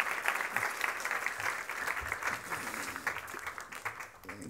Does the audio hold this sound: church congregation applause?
yes